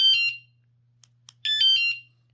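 A WSDCAM USB rechargeable bike alarm unlocked by remote gives two loud, shrill electronic chirp bursts, each about half a second long, with a couple of tiny clicks in the quiet gap between them over a faint low hum.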